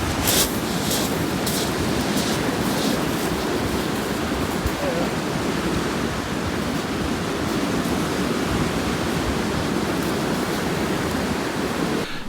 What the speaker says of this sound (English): You can see that the waves are breaking in between these two reefs